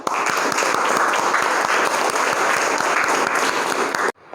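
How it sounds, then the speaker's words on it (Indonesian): A classroom of students claps together, dense continuous applause at close range lasting about four seconds and stopping abruptly. "Oke, boleh tepuk tangan?"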